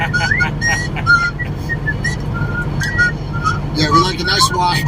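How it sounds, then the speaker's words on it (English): Short melodic whistled notes drift over a steady low rumble, bright and tuneful but somewhat distant, with a brief voice near the end. "That's somebody whistling."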